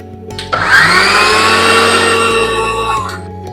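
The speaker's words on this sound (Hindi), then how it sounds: "अब मैं मिक्सी को एक बार फिर से घुमा लेती हूँ।" An electric kitchen mixer grinder whirs loudly for about three seconds, grinding dry sesame chutney in short bursts, with a steady high motor whine and rattling contents.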